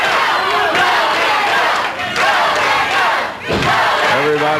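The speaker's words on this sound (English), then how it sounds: "Everybody in Championship Wrestling studio here is cheering for the King" A wrestling studio crowd cheers for Jerry 'the King' Lawler, a loud, continuous roar of shouting voices that dips briefly twice before surging again.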